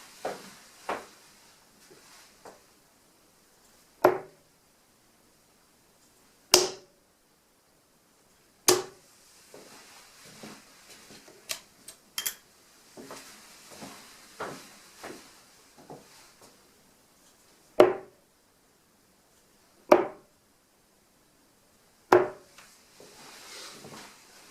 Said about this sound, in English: sounds like a kind of a woody sound, because I think as the dart's hitting it